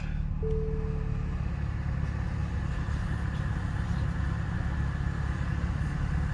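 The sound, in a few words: Nissan Z Nismo engine starting and idling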